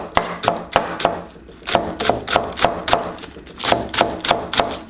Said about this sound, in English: Chop it thinly, slice it thinly.